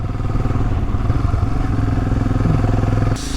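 Royal Enfield Himalayan motorcycle engine while riding near Kodaikanal, a loud, steady thumping single-cylinder drone with clattering underneath, close up and continuous, cutting off at the very end.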